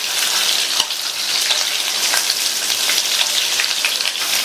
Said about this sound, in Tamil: இந்த கோவக்காயை எண்ணெயிலேயே ஹை ஃப்ளேமில் வச்சு 1 நிமிஷத்துக்கு வதக்கி விட்டுக்கலாம்.